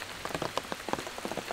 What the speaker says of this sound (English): As you all can hear, it's still raining.